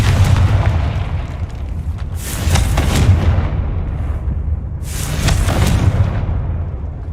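Fiery Confringo spell blasts in the video game Hogwarts Legacy, a loud run of booming, crackling bursts in two main waves over a heavy rumbling low end, with no talk.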